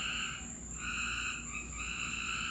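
Frogs croak in overlapping steady trills with crickets buzzing behind them, a dense nighttime chorus at moderate distance.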